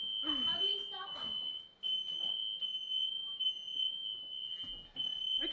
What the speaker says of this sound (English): Okay, we know the smoke detectors work.